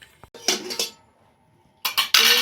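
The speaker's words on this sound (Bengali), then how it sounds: "এবার ডিমটা ভালো করে ফেটিয়ে নেব" Egg with chopped green chilli and tomato is beaten in a bowl, with quick clinking bursts of a utensil striking the bowl separated by a short pause.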